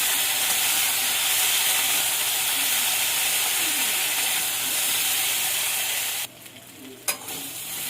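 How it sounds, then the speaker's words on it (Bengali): Ground spices, turmeric and vegetables such as drumsticks, potato and raw banana fry over low heat in a pan, giving a steady close hiss and sizzle that drops off sharply near the end, with faint stirring. "আঁচটাকে একদম অল্প একটু আঁচতে দিয়ে ভালো করে কষাতে হবে।"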